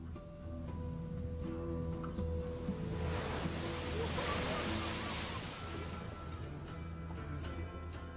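Ocean waves breaking around surfers, a loud surging roar that swells to a crashing peak midway and then recedes into a softer wash, heard alone without talk.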